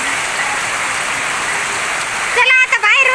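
Heavy monsoon rain pours steadily outdoors as a broad, loud hiss, with people talking near the end.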